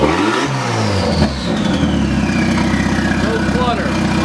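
A turbocharged Nissan 240SX engine with no exhaust fitted revs up loudly and close, a steady raw roar that rises and holds without load, with a voice talking faintly over the engine.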